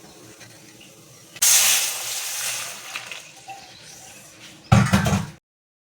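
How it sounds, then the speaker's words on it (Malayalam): Tamarind water poured into an Alappuzha-style fish curry as it cooks in the pan. A sudden loud hissing rush starts, then gradually settles, followed by a second sharp burst near the end; no one speaks. "അകത്തേക്ക് ഈ പുളിവെള്ളം എടുത്ത് അങ്ങോട്ട് ഒഴിക്കാം."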